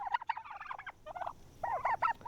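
Bronze-breasted turkeys gobble in a farm pen, with bursts of rapid gobbling from more than one bird, fairly close, with a short pause between calls.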